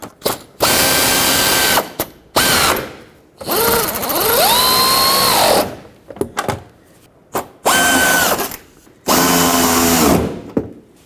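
Power drill driving the two mounting nuts that hold a fender flare on the fender of a 2009-2014 Ford F-150, in four loud close bursts of whirring with rising and falling pitch, separated by short pauses.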